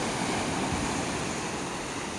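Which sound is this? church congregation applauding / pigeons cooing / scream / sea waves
sea waves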